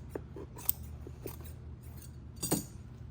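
Scissors cut away excess upholstery fabric while a wood seat bottom is re-covered with new foam, giving several close, crisp snips in an uneven rhythm with faint handling noise between them.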